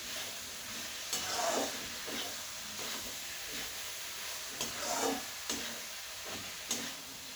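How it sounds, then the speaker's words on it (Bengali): Potato and minced chicken are stirred together in a pan for chicken pitha. A soft, steady sizzle sits under rhythmic scraping strokes and light ticks of the spoon, fairly faint, with no talking. "আলু আর কিমা একবারে আমি মিশিয়ে দেবো"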